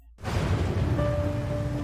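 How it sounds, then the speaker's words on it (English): Rain falling in China, a steady dense hiss of drops that begins abruptly after a brief silence and continues evenly, fairly loud and close, with no voices. "It's raining again in China."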